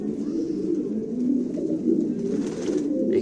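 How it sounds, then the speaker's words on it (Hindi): Fighter pigeons coo in a steady, overlapping low murmur of throaty calls, close and continuous, with faint rustling above. "माशाल्लाह बहुत ही अच्छा कबूतर है।"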